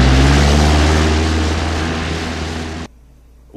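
Propeller airplane taking off, a loud, close, steady droning roar that slowly fades, then cuts off abruptly near the end.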